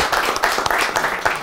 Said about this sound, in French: On va applaudir pour elle.